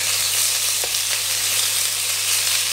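Pork stir-frying in a pan gives a loud, steady, close sizzle that runs unbroken from start to finish, with a faint scrape or two underneath.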